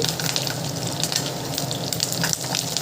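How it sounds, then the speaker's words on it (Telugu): Curry leaves and green chillies fry in oil in a pan for a mushroom masala curry, a dense continuous crackling sizzle that stays loud and close throughout. "వేసి కొంచెం బాగా ఫ్రై చేసుకుందాం."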